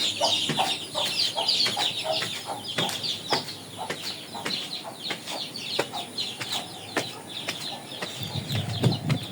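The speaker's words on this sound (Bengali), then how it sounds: "একেবারে দেশি মুরগির বাচ্চা" Native village chickens and chicks on a rooftop garden cluck and peep repeatedly in quick, irregular bursts, close and moderately loud, with no talking.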